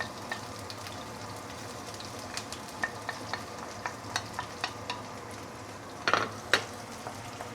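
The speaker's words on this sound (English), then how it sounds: "Once the oil is heated up, we will put in the fresh herbs." Fresh herbs sizzle softly in heated oil for a chicken curry paste, with a low frying hiss and scattered light clicks of a utensil stirring against the pan.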